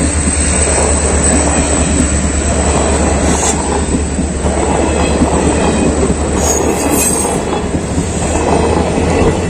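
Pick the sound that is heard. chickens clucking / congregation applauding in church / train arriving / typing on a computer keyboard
train arriving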